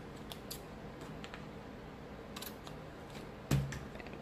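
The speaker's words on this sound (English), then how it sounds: "And then I'm gonna cut this side." Scissors cutting paper for a personal planner, a few quick soft snips close by in a quiet room, with one louder clack near the end.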